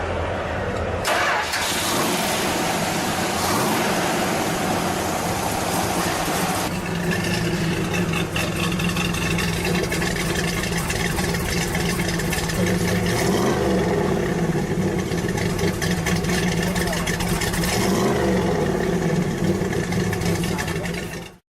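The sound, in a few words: small block 5.6-liter V8 muscle car engine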